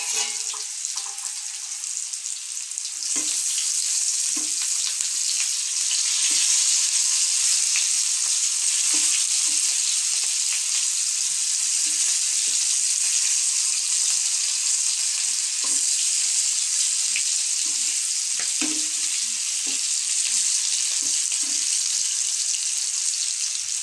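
Stuffed bitter gourd (karela kalonji) sizzles steadily in a hot pan of oil as it is turned. A loud, continuous frying hiss runs throughout with faint soft knocks from the turning.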